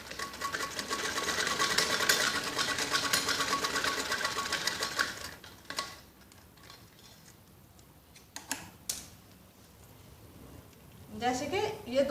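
Sewing machine stitching strips onto a kids' skirt, a fast, steady close-up run of needle ticks for about five seconds, then short bursts among quiet handling sounds, with a voice talking near the end.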